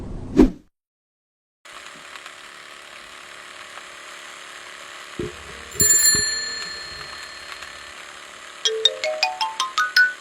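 A mobile phone ringtone for an incoming call, a tinkling electronic chime with bell-like tones and a quick run of rising notes near the end, loud and close with no talk.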